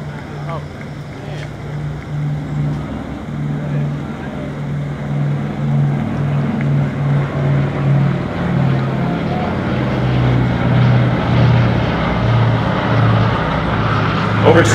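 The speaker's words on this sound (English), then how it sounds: "here comes the B-29" A B-29 bomber drones past overhead at a WWII VE Day ceremony flyover, with a low, steady propeller engine hum that builds gradually, mixed with wind buffeting on the microphone.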